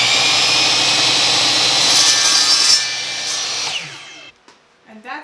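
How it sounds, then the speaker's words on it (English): A hand saw cuts through wooden dowels in a few seconds of steady, loud rasping strokes, then stops, leaving a short quiet tail with a few faint knocks. "I have my saw and I'm going to cut down my dowels, cut these down"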